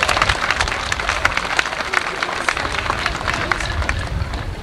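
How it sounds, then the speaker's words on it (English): Applause from a crowd gathered at a 1987 Indian statue dedication, a dense steady patter of many hands clapping throughout, fairly loud and continuous with a few sharper claps standing out. "give yourselves a big round of applause for coming out on such a special occasion"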